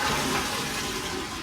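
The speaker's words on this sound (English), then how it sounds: "he thought the right way to flush a toilet was with your foot." A public restroom toilet flushes in a brief, steady rush of water, close and fairly loud, with no voices present.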